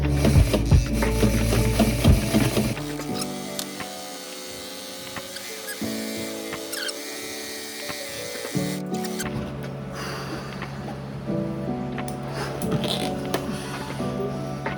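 A sewing machine, pushed to its limit on fabric for a truck camper, hums and stitches in steady bursts, starting and stopping, with some rustling of fabric between runs; no one speaks.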